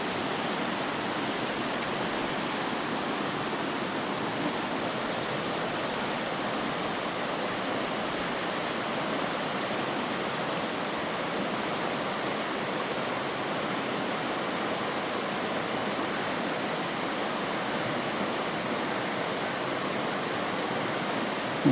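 A high, cold river flows near Drumin castle as a steady, even rushing roar of water that continues unbroken throughout, moderately loud, with no voices.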